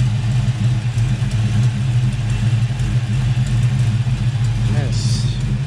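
Car engine idling steadily up close, a low continuous rumble with a slight miss and a faint exhaust leak, running alone without talk throughout.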